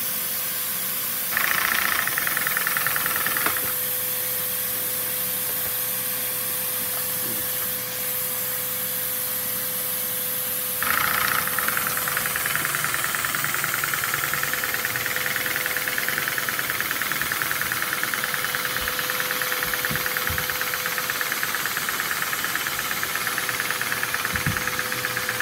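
A homemade Lego two-cylinder vacuum-powered engine driving a bus chassis runs continuously, a loud steady hissing and rapid knocking chug, close up, with surges in intensity and no talking throughout.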